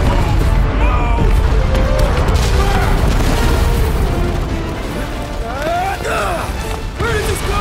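Explosions in Guardians of the Galaxy game combat, loud rumbling booms and crashing debris throughout, with urgent character voices and shouting layered over the blasts.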